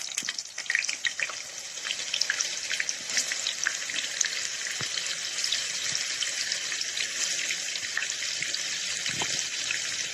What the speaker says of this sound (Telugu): ఇప్పుడు దీన్ని మంచిగా నీళ్ళంతా వంపి తీసుకుందాము